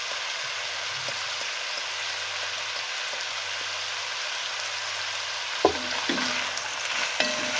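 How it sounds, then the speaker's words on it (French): Onions frying in a pan with turmeric and pepper, a steady broadband sizzle throughout with a low hum beneath, and a few louder scraping stirs near the end. "Et on laisse rissoler."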